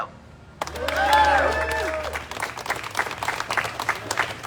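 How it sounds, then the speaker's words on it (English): A protest crowd in San Francisco breaks into sustained clapping and cheering, with a voice calling out over the applause, which thins into scattered claps. "Another round of applause for Kim."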